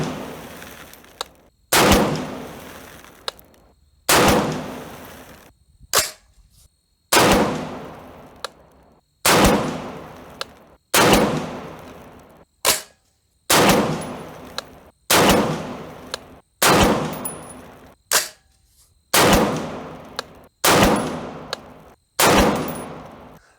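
A 6.5 Creedmoor AR10 rifle firing 140-grain ELD-M match reloads over H4350 powder, heard as about a dozen loud, sharp single shots at steady intervals, each with a booming decay and short quiet gaps between.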